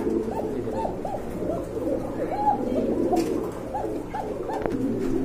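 A pigeon from a pair offered for sale coos repeatedly in a soft, rolling rhythm, the calls close and clear over a low steady background hum.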